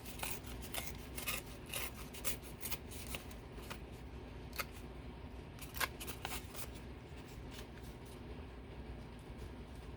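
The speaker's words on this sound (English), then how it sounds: "So maybe I'll trim a little bit more." Scissors trim digital paper for a crafting project, with a series of crisp snips and papery rustles at close range in a quiet room.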